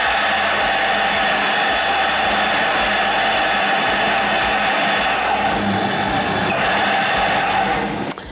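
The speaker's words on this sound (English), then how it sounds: "from the grinder, you're going to grind coffee, because a double," An espresso coffee grinder runs through a double dose of beans, giving a loud, steady mechanical whir that holds for about eight seconds before cutting off abruptly at the end.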